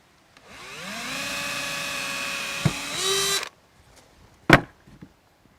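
A power drill bores a hole in wood for an insect hotel, whining up to speed, running steadily for about three seconds, then stopping, followed by a sharp knock.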